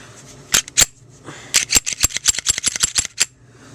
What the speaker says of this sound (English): Put the pin back in the hole.